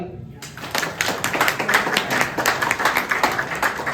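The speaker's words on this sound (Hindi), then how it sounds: "तो बजा दो ताली" Audience clapping at a Republic Day health checkup event, starting abruptly after a brief quiet moment and continuing as a dense, steady patter of many hands at moderate loudness, with some talk underneath.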